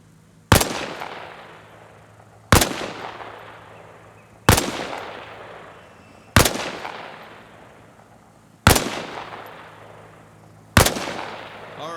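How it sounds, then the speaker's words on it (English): Rifle fire in the Arma Reforger video game during a training scenario from behind a wall: six loud single shots spaced about two seconds apart, each with a long echoing tail fading out, no talking. "Position yourself behind the wall and lean out while firing."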